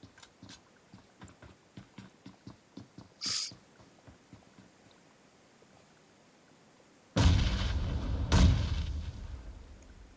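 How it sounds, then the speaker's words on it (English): Two loud grenade blasts burst in a video game shooter, Unknown Soldiers, after a run of quiet rhythmic ticks and a short hiss; the second explosion follows about a second after the first, both close and heavy. "Looks to be about 2 or 3 nades."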